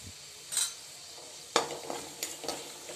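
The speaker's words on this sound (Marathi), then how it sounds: "आपली मिरची आणि लसूण छान परतले गेलं आहे, त्यात मी थोडा हिंग टाकते आणि थोडीशी हळद टाकते" Chili and garlic stir-fry in a pan with asafoetida and turmeric, giving a soft sizzle broken by a few sharp scrapes of a spoon against the pan.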